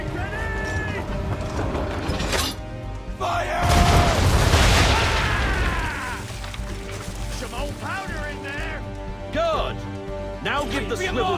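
Ship cannons firing in the naval battle of the video game Assassin's Creed 3: a heavy, rumbling broadside blast in the middle, amid creaking, splashing game sounds and voices.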